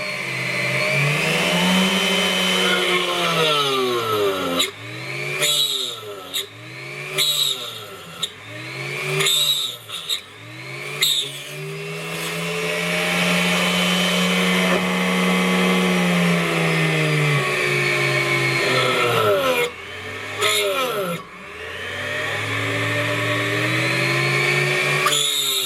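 Dremel high-speed bench drill working through 3mm steel, the close motor whine repeatedly bogging down and recovering in a run of quick dips, then holding steady before a few more drops.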